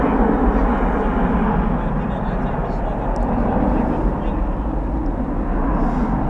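Airbus A321 airliner at Dallas/Fort Worth International Airport at night, a loud, steady broadband engine roar that holds throughout without a break.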